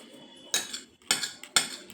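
A metal spoon clinks against a plate while eating fried rice and chicken, three sharp bright clinks in an even rhythm, close and clear, with no talking.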